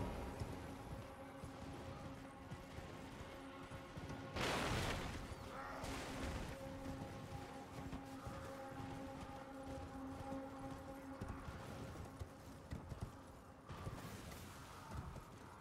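Horse hooves thud along as a rider travels across open ground in the Elden Ring video game, with soft rhythmic footfalls and occasional louder bursts over a dense ambient game soundscape.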